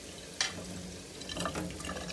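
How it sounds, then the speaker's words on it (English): Cold tap water runs into a sink as eggplant is rinsed in a strainer, a quiet steady splashing with a couple of brighter drips and spatters, no talking. "And then I'm just going to rinse it under cold water."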